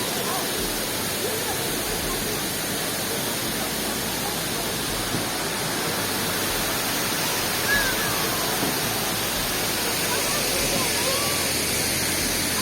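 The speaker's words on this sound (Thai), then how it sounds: "เป็นน้ำตกตาที่สวยงาม" Tad Kuang Si waterfall near Luang Prabang, Laos, roars as a dense, constant rush of falling water, loud and close throughout, with a voice speaking over it.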